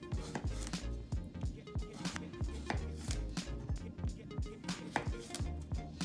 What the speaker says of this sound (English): And then I'll start slicing it into round slices.